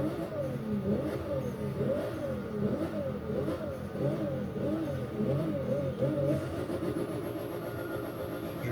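A Nissan Skyline GT-R R34 engine revving in a video game, with repeated rising and falling rev sweeps in a steady rhythm that settle into a smoother drone near the end. No speech is heard.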